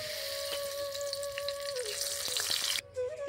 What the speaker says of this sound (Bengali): তেলটা ভালো করে গরম হয়ে গেছে, তেজপাতা আর এলাচটা তো ভেজে নিয়েছি।